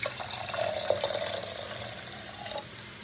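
Water is poured into a pot of mango and red lentil dal, a steady splashing stream that runs for a few seconds, close and fairly soft.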